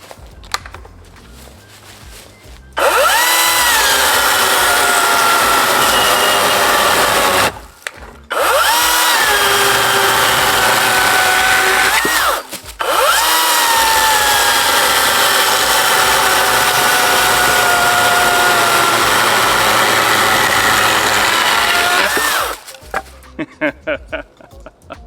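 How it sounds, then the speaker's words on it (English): EGO Power Plus 56-volt 16-inch brushless electric chainsaw whirring loudly at close range in three long sustained runs, with brief pauses between them and the motor spinning down at the end. "this is the Ego Power Plus 56 volt 16-inch brushless electric chainsaw"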